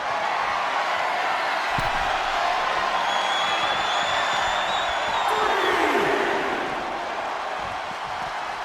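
A packed wrestling arena crowd roars steadily at high volume throughout, a dense wall of cheering and shouting with occasional thuds and whistles.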